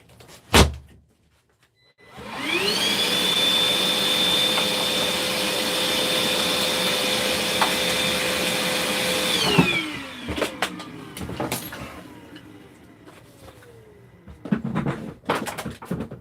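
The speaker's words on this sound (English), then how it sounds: "Did I throw the freaking vacuum out the door again?" A vacuum cleaner starts up with a rising whine, runs at a loud steady drone for several seconds, then winds down, followed by scattered knocks and clatter that sound like a door and handling noises.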